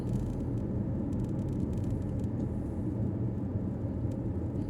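Steady low rumble of road traffic heard from inside a moving vehicle in Saudi Arabia, a constant muffled drone with faint hiss and no voices.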